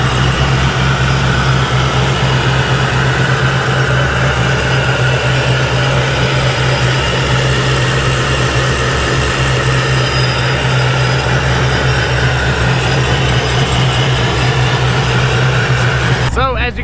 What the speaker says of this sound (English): we actually got Ryan's car fired up and it is running